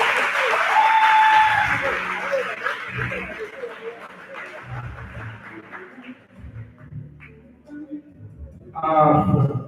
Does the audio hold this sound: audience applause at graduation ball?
yes